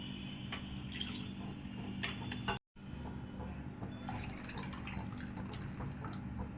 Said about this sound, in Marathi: आता आपण टाकू आता हे चिंचेचं पाणी.